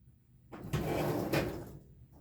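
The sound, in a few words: drawer opening or closing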